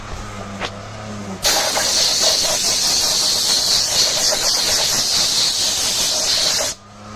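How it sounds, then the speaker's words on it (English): Compressed air blasting debris off a J35 engine cylinder head, a loud sustained hissing rush lasting about five seconds after a brief quiet start, cutting off abruptly. "I'll go ahead and blow it off with some compressor."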